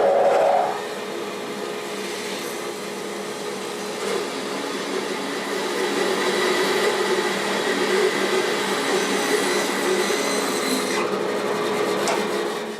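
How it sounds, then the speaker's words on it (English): Bandsaw cutting a walnut bowl blank, a steady, even whirring and rasping hiss of the blade through wood, close and sustained throughout, with the cut ending near the close and no talk. "I'm going to go with the bandsaw and cut this off"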